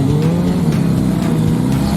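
A motorcycle engine drones loud and steady up close while riding, a continuous buzzing rumble with no breaks.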